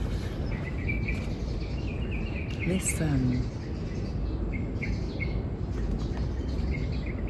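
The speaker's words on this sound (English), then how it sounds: "Can you hear the birds?" Birds chirp and tweet in short repeated calls outdoors over steady broadband background noise, with a brief louder sweeping sound in the middle.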